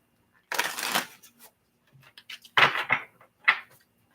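Tarot cards are shuffled by hand in a quiet room, giving a riffling burst followed by a few short papery flicks and snaps, close and distinct with silence between.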